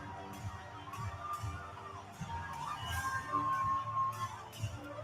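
Wrestling arena crowd at a live pro wrestling show in Louisville, Kentucky, cheering and murmuring steadily as a broad, fairly distant wash of voices that swells slightly toward the end.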